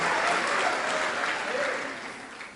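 Church congregation applauding at a communion service, a dense sustained clatter of many hands that stays steady before tapering off slightly at the end.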